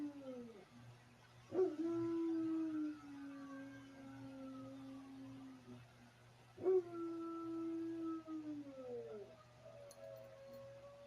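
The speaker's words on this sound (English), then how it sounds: "he made the other German Shepherd start howling" German Shepherd dogs howl indoors in two long, drawn-out rising and falling rounds, each starting sharply and trailing off, fairly faint against a low steady hum.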